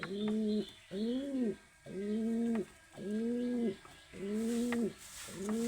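A domestic pigeon cooing close by, six or so drawn-out rising-and-falling coos in a steady rhythm with short pauses between, clear and alone apart from faint background noise.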